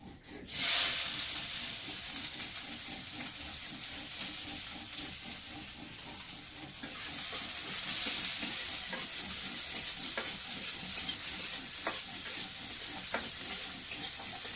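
Onions frying in a pan give a steady, broad hiss of sizzling that runs throughout, with a brief quieter start and a slight swell about halfway, plus faint stirring scrapes and clicks.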